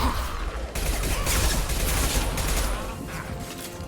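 Impact shot gunfire from the video game Mass Effect 2, a loud, dense burst of shots and crashing impacts filling several seconds, tailing off toward the end.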